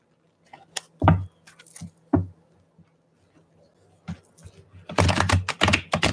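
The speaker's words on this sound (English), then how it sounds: "All right, last shuffle." Soft crisp riffling and tapping of tarot cards, a few separate snaps, then a longer flurry of quick shuffling near the end, in a quiet room.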